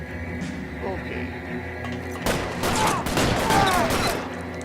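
Shootout gunfire in the LA Noire video game, a burst of rapid loud shots breaking out midway over a low rumbling backdrop, with a voice talking before the firing.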